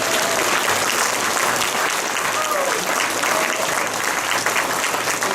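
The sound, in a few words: audience applause for headliner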